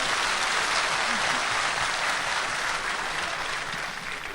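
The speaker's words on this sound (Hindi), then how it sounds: "मैं चाहता हूँ एक बार ज़ोरदार तालियां इनके लिए बजाई जाए, इन्होंने बहुत अच्छा।" Loud, sustained applause from a large audience at a Hindi-Urdu poetry recital in Dubai, dense and continuous throughout, easing slightly at the end.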